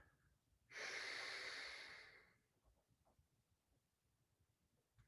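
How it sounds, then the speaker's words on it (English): A long, steady in-breath taken during a qigong exercise, close and airy, swelling for about a second and a half before fading, alone in a quiet room. "Breathing in."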